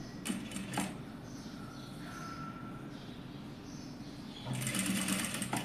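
A sewing machine stitches box pleats into fabric, its steady mechanical whirr running throughout at a moderate, close level, with a louder burst of faster stitching near the end and no talking.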